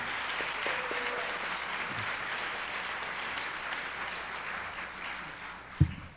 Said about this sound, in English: Another round of applause, Dr. LaVeist